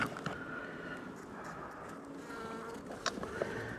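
Honey bees buzz around a hive feeder, a close, continuous droning hum with several overlapping wingbeat tones and a few brief louder passes near the microphone.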